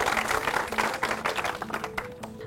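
Applause from a studio audience at a Hindi game show, as a new contestant is welcomed. Steady, dense clapping fills the whole stretch at moderate loudness, with a faint voice or tone underneath.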